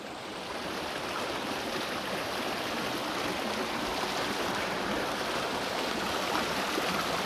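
A freshwater stream runs through a rocky gully where small slides pour off the rocks and patches of ice linger in the shade, giving a steady, close rushing and splashing that holds at an even level throughout, with no talking.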